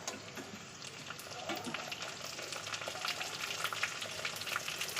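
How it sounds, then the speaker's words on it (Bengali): Onion, ginger, garlic and chopped tomatoes fry together for chicken kosha, making a faint crackling sizzle with light stirring that grows slightly busier toward the end, with no talk. "সবগুলোকে আবার ভালোভাবে একটু মিশিয়ে ভালো করে একটু ফ্রাই করে নেব"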